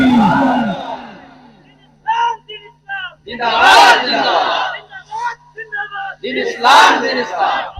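A large crowd at an Islamic sermon roars back in unison after a preacher's call, the single voice first, then two swelling collective shouts with brief pauses between, loud and reverberant.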